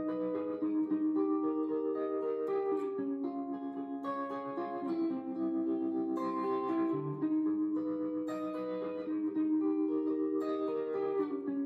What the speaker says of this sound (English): try the reverb and tremolo effects together